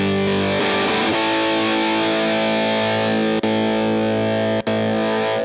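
Electric guitar through a gain pedal in blues mode, used as a boost, into a Vox AC30 amp; one thick, distorted chord rings and sustains, with a brief scrape early on and two quick mutes later.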